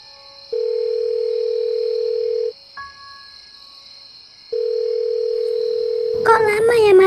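A telephone rings out unanswered in an animated horror film: a steady electronic tone in long repeated bursts separated by gaps, clear and loud, before a voice begins speaking at the end.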